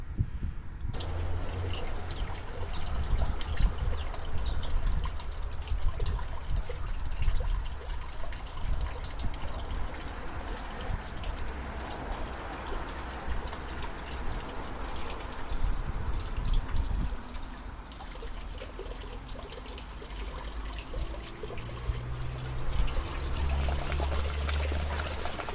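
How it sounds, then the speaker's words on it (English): Water from a hose pipe back-flushing a car radiator in the engine bay, a steady continuous splashing and trickling pour with drips, close and sustained. "putting the hose pipe into the radiator just there and catching what comes out by backward flushing up in the engine bay"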